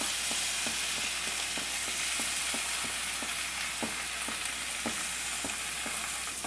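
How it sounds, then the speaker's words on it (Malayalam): Spinach paste and ginger-garlic paste sauté in a hot pan, a steady, close sizzle with soft repeated scrapes of stirring. "എല്ലാം കൂടി നല്ലപോലെ ഒന്ന് മിക്സ് ചെയ്ത് കൊടുക്കും. ഇതൊന്ന് വഴറ്റിയെടുക്കുക."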